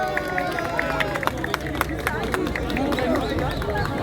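Applause and crowd chatter for the women's winner at a running race award ceremony: scattered outdoor clapping under a lively hubbub of voices, with a close announcer talking over it.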